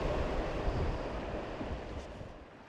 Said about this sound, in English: we woke up and unfortunately the wind was still blowing